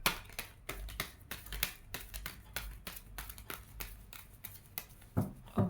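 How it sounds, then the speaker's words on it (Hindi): Tarot cards being shuffled by hand, a rapid run of crisp riffling flicks and soft slaps close by, steady and rhythmic with a brief louder rustle near the end, no voices. "My last shuffle."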